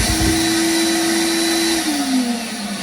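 A sandblasting cabinet's reclaimer vacuum runs loud and steady with the baffle closed, sucking up gloves in a continuous roaring rush with a high whine that dips slightly near the end.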